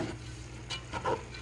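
Rice, beans and lentils seasoned with salt and black pepper are stirred in a pot, with a few soft scraping strokes over a faint background hum, close and quiet.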